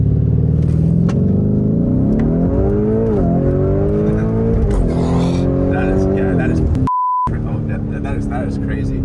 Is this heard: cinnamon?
no